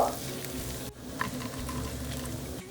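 Garlic cloves frying in hot oil with dried red chillies and curry leaves, a steady close sizzle with a brief pause and a faint utensil scrape.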